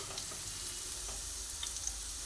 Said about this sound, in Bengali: পুরো আলুটার মধ্যে নুনটা মিশিয়ে দিই এইভাবে ভেজে নিচ্ছি